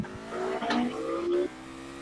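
Race car engine on throttle in the rFactor 2 sim, an FR 3.5 single-seater, with a steady rising tonal drone that climbs in pitch through two short pulls, plus a brief tire-squeal-like streak mid-clip.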